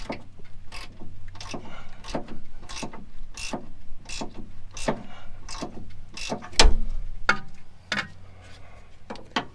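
A ratchet with a deep well socket loosens the rear strut bolts on a Honda Ridgeline, giving a steady run of close, crisp clicks about twice a second, with a sharper metallic clank partway through.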